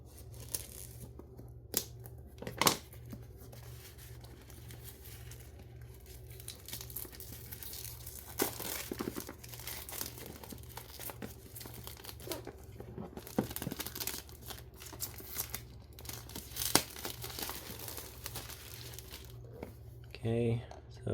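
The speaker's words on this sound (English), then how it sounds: "So here, I will cut this plastic thing off here." Cutting and peeling plastic wrap off the box of an OVAMAN K600 dual-channel dash camera, a close run of crinkling, tearing and snipping noises with sharp crackles scattered throughout, and someone talking in between.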